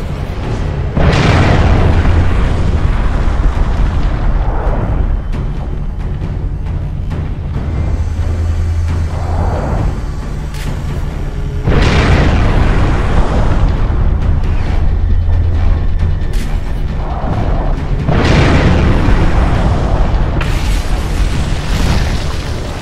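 Repeated heavy blasts with deep rumbling booms at a steady rhythm in Gears of War 3 on Xbox 360, each explosion followed by sustained low roar and debris, loud and close with no talk.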